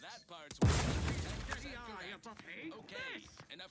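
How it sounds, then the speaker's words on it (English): A loud grenade blast in a video game hits sharply and rolls into a crackling decay, with a few further bursts following while people talk over the action. "They're just throwing nades down here constantly."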